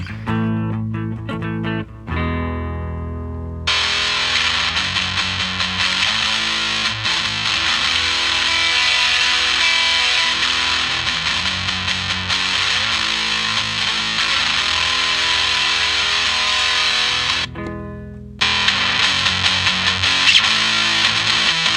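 Electric guitar heavily distorted through a Behringer DM100 pedal, a few picked notes then sustained crunchy chords ringing loud and continuous, with a brief break near the end.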